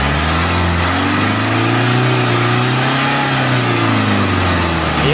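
A Mitsubishi Strada pickup's 4N15 MIVEC diesel engine, which has low power and heavy smoke, is revved up and back down close by, one loud sustained rise and fall over the idle.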